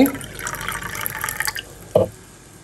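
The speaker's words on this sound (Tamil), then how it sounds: "1/4 கப்பு தண்ணி, 1/4 கப்புக்கு கொஞ்சம் தண்ணி கூடுதலாக சேர்த்துக்கிறேன் நான்." Water poured into a pan of jaggery for sweet puttu: a short steady pour trickles for about a second and a half, then a single clear drip or splash lands, close and fairly loud, with no talking.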